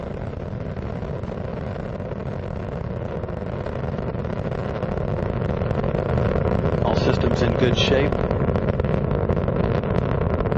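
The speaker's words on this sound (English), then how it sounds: "Engines throttling down as Atlantis prepares to maneuver through the area of maximum dynamic pressure on the vehicle in the lower atmosphere" Space Shuttle Atlantis main engines roar in a steady, broadband rumble during launch ascent on mission STS-117, growing slightly louder midway, with a radio voice from mission control talking over it.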